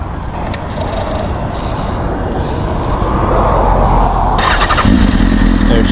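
A motorcycle engine cranks and fires up after its empty gas tank was refilled, settling into a loud, steady, close-up running rumble that swells stronger toward the end.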